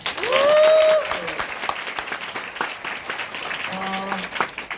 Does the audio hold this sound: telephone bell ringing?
no